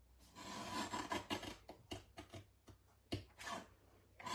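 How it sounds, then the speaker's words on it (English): A paper trimmer slices card stock up to a score line in a quiet craft setting, giving soft, irregular scraping and sliding strokes close by, with short pauses between passes. "And then I'm going to take my trimmer. I'm going to cut up to the score line."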